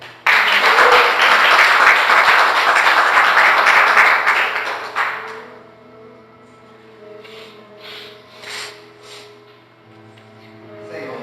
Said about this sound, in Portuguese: Pode dar mais um aplauso aí